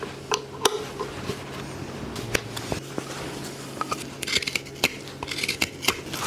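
Hand carving knives slice and scrape into a wooden bowl, giving short crisp cuts and crackly shaving sounds in an irregular rhythm, close and fairly quiet.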